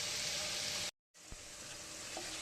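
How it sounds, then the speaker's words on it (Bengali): Potatoes fry in a pan with a loud, steady hiss and crackle, broken briefly by a moment of silence before the sizzle resumes. "তাই আলুগুলোকে আগে একটু ভেজে নিচ্ছি"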